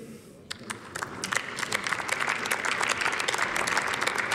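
Applause in the German Bundestag rises from a few scattered claps into steady, dense clapping from the chamber, growing louder as it goes on.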